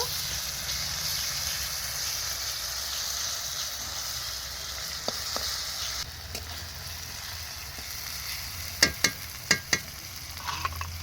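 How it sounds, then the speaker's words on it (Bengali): Garlic paste fries in a pan with reddish-browned onions, a steady sizzle running throughout, with a few sharp clinks of a spoon stirring near the end. "তো রসুনটা একটু ভাজা হয়ে গেলে তারপর আদা দেব।"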